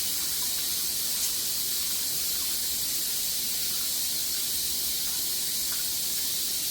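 A pressure pot hisses steadily while lay bird curry cooks, a constant broad hiss of escaping steam with a low rumble beneath and no talking.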